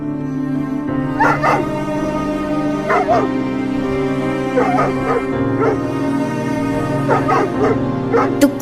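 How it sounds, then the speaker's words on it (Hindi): A cartoon dog whimpers and cries in repeated whiny yelps over several seconds, loud and near, over a steady background hum. "देखो ये कुत्ता कुछ ज्यादा ही रो रहा है।"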